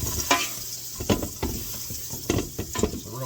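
Butter melting in hot bacon grease in a pot for a roux, sizzling steadily while a utensil scrapes and clicks against the pot in a few short stirring strokes.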